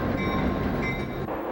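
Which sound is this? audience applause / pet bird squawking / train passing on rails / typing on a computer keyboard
train passing on rails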